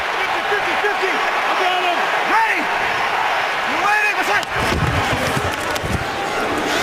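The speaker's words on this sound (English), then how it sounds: "So when you hear that sound in here, again, they're not booing. Fans are just saying Kuhn." Crowd of football fans in a stadium calling out a long, low drawn-out "Kuhn" for fullback John Kuhn during a Raiders at Saints game, several swelling chant waves over steady crowd noise, with a commentator talking over it.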